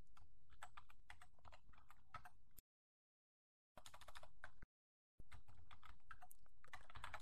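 Keys clatter on a computer keyboard in rapid bursts of typing a command, close and soft, broken by two brief moments of complete silence.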